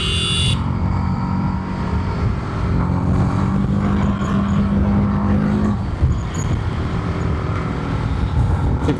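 A TVS Apache RTR 310 motorcycle ridden in fourth gear, its engine droning steadily and loud up close with strong wind rush throughout, a faint rising tone appearing midway.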